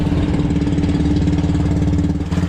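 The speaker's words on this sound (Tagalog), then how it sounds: "Palamigin muna natin makina baka nakalangan dito" A fishing boat's engine idles out at sea with a steady, loud, low rumbling chug that runs unbroken throughout, with no talking.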